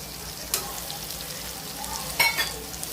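Chicken masala and whole spices sizzle steadily in a pan, faint and close, with two brief louder scrapes as they are stirred and no voices heard.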